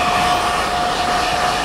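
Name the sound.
hair dryer blowing while drying hair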